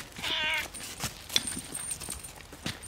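A tomcat gives a short, clear meow near the start, followed by soft scuffling and light taps as he plays, with no talk over it.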